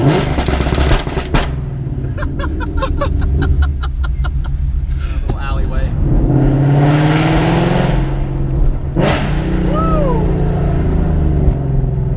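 A loud modified exhaust on a 2015 Ford Mustang GT revs and roars at close range, pops and rumbles echoing, with a person whooping and talking over it.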